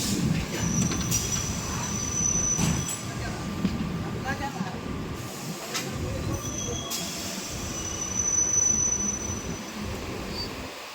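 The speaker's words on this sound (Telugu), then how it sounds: "ప్లాట్ఫామ్ నెంబర్ 3 మీద నుంచి టాటా నగర్ ఎర్నాకుళం ట్రైన్ అయితే వెళ్తుందన్నమాట" Tata Nagar–Ernakulam express rolling past on platform 3 of a station, steady rumble of wagons with sharp metallic wheel squeals cutting in, near and sustained, with voices talking faintly over it.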